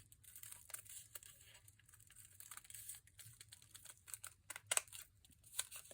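Scissors cutting round a paper rectangle for paper tulips, producing soft, faint, irregular snips and crisp paper rustles in quick succession, close by and quiet, with no one talking.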